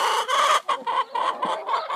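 Backyard hens clucking in a series of close, loud, choppy calls with brief gaps between bursts, no people talking.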